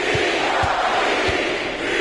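A home crowd roars in a basketball video game, a loud, sustained cheer with faint rhythmic thumps beneath, filling the arena without a break.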